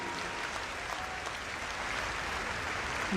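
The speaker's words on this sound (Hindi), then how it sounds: "आपकी हाथ की करतल ध्वनि ने इस पूरे वातावरण को स्पंदित कर दिया" A crowd applauds at the inauguration of Amrita Hospital in Faridabad during PM Modi's visit, a dense, sustained wash of clapping that holds steady throughout.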